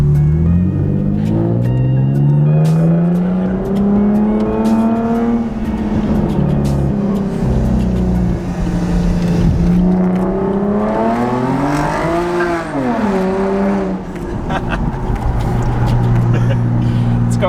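A Toyota Supra with a muffler-delete aftermarket exhaust revs loudly up and down at a car meet, its raw engine note rising and falling in long sweeps, with brief talk nearby.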